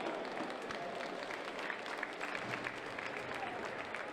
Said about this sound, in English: A round of applause to all of our sponsors who are up on the video board now.